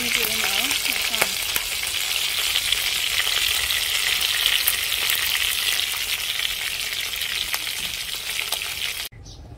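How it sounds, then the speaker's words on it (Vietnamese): Frog pieces frying in a pan with lemongrass and fish sauce, a loud, steady, close sizzle of hot oil that crackles evenly throughout and cuts off abruptly near the end. "Món này là ếch xào rau ngổ, ếch chiên xả nước mắm."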